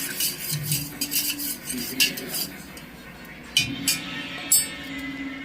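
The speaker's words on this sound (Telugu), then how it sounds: "ఇప్పుడైతే స్పూన్తో మిక్స్ చేయాలి." A spoon stirs a homemade drink in a cup, giving a run of light metallic clinks and scrapes against the sides, close and moderately loud, with soft background noise between strokes.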